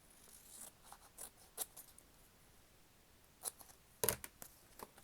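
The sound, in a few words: cutting paper while journaling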